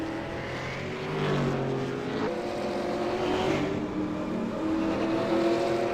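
V8 Supercar race car on a hot lap, a sustained engine roar that shifts pitch as it accelerates and changes gear, loud and continuous throughout, no voices.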